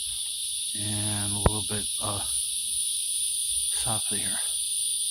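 Cicadas drone in a loud, steady high-pitched buzz across the whole stretch, in the Oak Hill area of Volusia County, Florida, with someone talking over it and a brief sharp click partway through.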